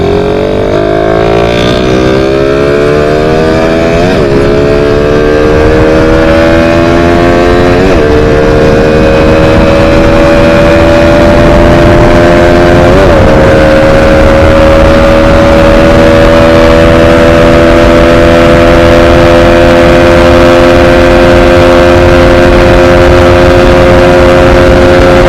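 A stock-engine Raider 150 motorcycle, fitted with a 28mm carb, revs hard and runs at high speed, its loud sustained engine whine climbing in pitch through several gear shifts before holding steady near the rider.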